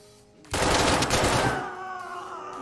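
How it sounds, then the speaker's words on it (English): Gunfire in the tactical shooter Ready or Not: a loud, dense burst of shots begins suddenly and lasts about a second, then fades into a ringing, sustained tail. "Is he shooting me?"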